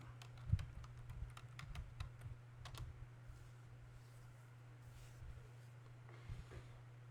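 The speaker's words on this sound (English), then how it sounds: "I'm going to type newyorktimes.com" A command is typed on a computer keyboard: a quick run of close, light key clicks with a steady low hum underneath, the clicks thinning and going quiet by the end.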